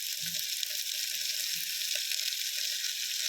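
Big onions sautéing in a pan for a field bean curry give a loud, steady hiss, with a few soft stirring knocks underneath and no voices.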